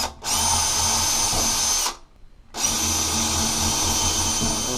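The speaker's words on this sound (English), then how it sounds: "Then we're going to go ahead and pre-drill all 3 of those." A power drill pre-drills three mounting holes for a closet rod socket, whirring loudly and steadily in two long bursts separated by a short pause, with no talk.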